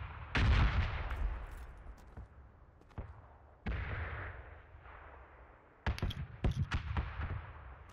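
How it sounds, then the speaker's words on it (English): Gunfire and explosions in PUBG, a battle royale video game: a heavy blast opens, then scattered booms and sharp shots follow, ending in a quick cluster of cracking gunshots, fairly faint overall. "There's so many explosions in front of me"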